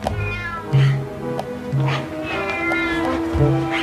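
A cat meows repeatedly in close, loud, drawn-out cries that rise into caterwauling wails, spaced irregularly over a few seconds against a faint background.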